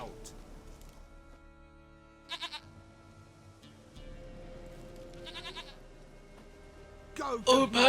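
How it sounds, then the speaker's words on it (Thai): A goat in the video game The Witcher 3 bleats in two short, wavering bursts over low, steady game ambience, followed by a louder burst of sound near the end. "ของข้าแพะที่น่ารักที่สุด"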